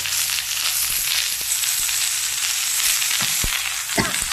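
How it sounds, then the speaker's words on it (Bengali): Vegetables frying in oil in a kadai with dried chillies, garlic and onion, a bright continuous sizzle with occasional sharp spatula clacks and stirring scrapes near the end, close and without talk. "দিয়ে দিয়েছি কড়াইয়ের মধ্যে সবজি"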